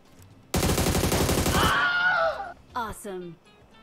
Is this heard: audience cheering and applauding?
no